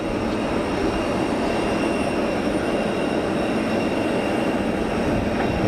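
An airliner climbing away after takeoff at Geneva Airport makes a loud, dense, unbroken roar that stays level throughout, with no one speaking.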